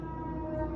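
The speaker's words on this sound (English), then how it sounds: "I just didn't want to talk over that siren" A siren wails outside in a steady, sustained tone that holds a constant drone through the whole short moment, moderately loud with no talking.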